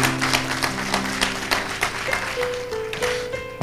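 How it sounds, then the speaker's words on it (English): A church congregation claps in praise, a dense, continuous round of hand clapping with a few voices and sustained tones underneath. "Let's give God a hand clap of praise."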